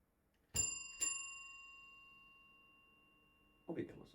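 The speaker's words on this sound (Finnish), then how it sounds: "Ovikello soi." A doorbell chimes twice in quick succession, two bright ringing tones that decay slowly indoors, followed by a brief burst of voice near the end.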